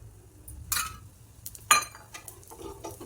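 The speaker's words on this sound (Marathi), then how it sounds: "आता तेल सोडून घेऊया याला." Rava uttapam sizzles softly on a pan as oil goes in, with a few scrapes and clinks of a utensil against the pan.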